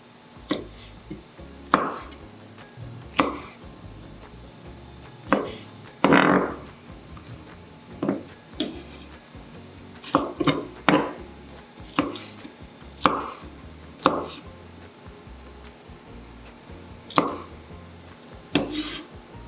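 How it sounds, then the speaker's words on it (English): Knife chopping one or two black ear mushrooms into small pieces on a board, a steady series of sharp, close taps at an uneven rhythm, about fifteen distinct cuts with quiet rubbing between them and no talk. "Cut 1 or 2 black ear mushrooms into small pieces."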